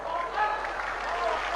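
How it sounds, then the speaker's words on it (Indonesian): A crowd at an Islamic sermon by a preacher claps steadily throughout, a dense, continuous wash of applause from a sizable audience, fairly close and sustained. "Tepuk tangan melulu"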